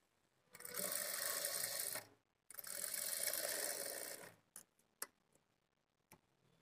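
Sewing machine stitching dots on a blouse front panel: two steady whirring runs of about one and a half seconds each, then a few soft ticks and clicks as the fabric is adjusted, with no talking.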